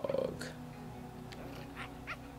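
A dog in Minecraft Story Mode gives a short whimpering, yapping call at the start, then soft intermittent snuffles and small noises over quiet background music.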